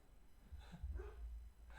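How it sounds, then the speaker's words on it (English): A basset hound barks a few times in the background, faint and somewhat distant, in short bursts with no talk over it. "You hear my dog in the background?"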